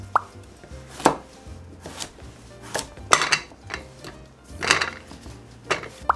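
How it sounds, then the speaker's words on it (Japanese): A knife roughly chopping onion and carrot on a cutting board, about six or seven sharp, irregular knocks with quiet gaps between them, close and clear, without speech. "ざっくりと切っていきましょ"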